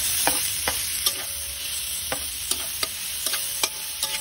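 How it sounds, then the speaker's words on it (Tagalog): Ginger, onion, garlic and tomatoes sautéing in a pan for chicken curry, with sharp, irregular spoon taps and scrapes against the pan over a soft continuous sizzle, close by. "Ayan, gisa-gisa lang natin. Kailangan igisa natin."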